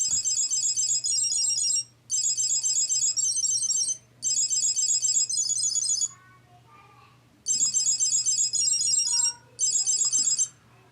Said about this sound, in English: as I do with all my Bluetooth trackers, it is time for the sound level test.